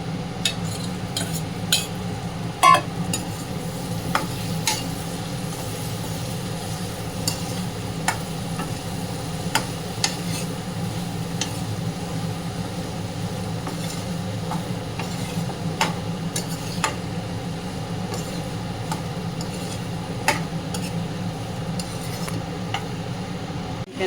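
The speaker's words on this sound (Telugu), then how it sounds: "ఇంత మిక్స్ చేసుకున్న తర్వాత చికెన్ వేసుకున్నాం. చికెన్ వేసుకుంటున్నాం." Chicken pieces being added to a curry pan and stirred, with steady spoon scrapes and light clinks over a continuous low frying rumble, fairly close and without talk.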